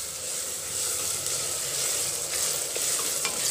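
Chicken gravy masala frying in a pan gives off a dense, continuous loud sizzle with steady hiss, close up, and a few faint utensil touches near the end; nobody speaks.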